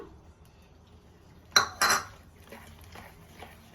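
Utensils clank and scrape against a pan as chocolate ingredients and jaggery are stirred together, with two sharp metallic clinks followed by softer, steady stirring scrapes, close and clear with no talking.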